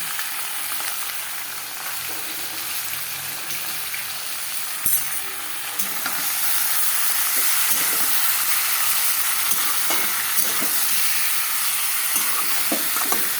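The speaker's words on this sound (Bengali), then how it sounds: "সুন্দরভাবে এটাকে কষাতে হবে" Onion, ginger and garlic paste sautés in hot oil with a loud, dense sizzling hiss that swells after a stir midway, with sporadic scraping taps, no voices.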